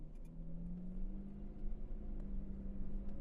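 A Jaguar XJS engine hums steadily at low pitch as the car pulls away and gathers speed, a smooth continuous rumble with no talking.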